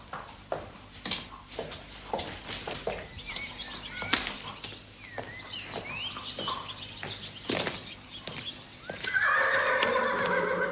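A horse in a stable snorts and shuffles its hooves with scattered thuds and knocks, then lets out a loud, drawn-out whinny near the end; faint birdsong sits in the background.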